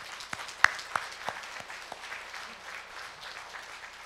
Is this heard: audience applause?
yes